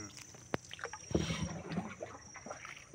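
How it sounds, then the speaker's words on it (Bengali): A boat glides over water with faint lapping and splashing, quiet and close, broken by a sharp knock and a murmur of a voice in the background. "নৌকা যে সঠিকভাবে যাচ্ছে সেটা দেখাও"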